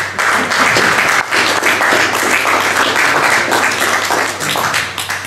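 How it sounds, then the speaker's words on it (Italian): Dense, loud clapping from an audience at an Italian debate or conference on public debt, sustained and even throughout with only a brief dip partway. "ci possiamo battere le mani"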